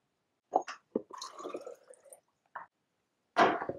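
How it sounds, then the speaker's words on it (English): Used film-developing fixer is poured back into its storage container in short bursts of splashing and trickling liquid, with a few brief drips and knocks between pours and a final louder gush. "So right now I just poured the fixer back in here because I'm gonna reuse it another time."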